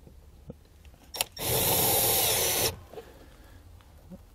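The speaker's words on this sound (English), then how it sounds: "we're just going to take the screws that come included with the kit and run them right in" A power driver runs a kit screw into interior paneling of a 2019 Chevrolet truck, one loud steady whir of about a second and a half, close, with faint handling clicks before and after.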